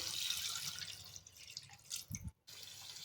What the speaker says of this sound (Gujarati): હવે આપણે એમાં બે ગ્લાસ જેટલું પાણી ઉમેરીશું